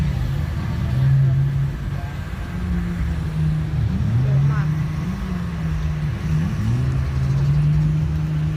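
Steady, dense traffic rumble on a busy road in front of a Central shopping mall in Thailand, with engines droning nearby and a vehicle passing, continuous and fairly loud.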